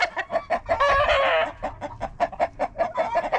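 Backyard chickens cluck in a steady, rapid patter close by, with one bird letting out a longer squawking call partway through; no voices.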